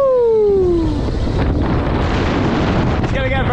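Strong wind roars across the microphone high atop the Blackpool Starflyer swing ride, a loud continuous buffeting rush that drowns everything, with a falling tonal whine fading out at the start.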